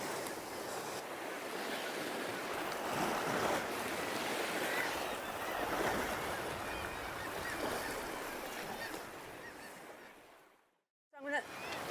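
Waves splash and surge against a rocky shore at St Abbs, a steady broad wash of surf that fades out near the end before a brief sound cuts in.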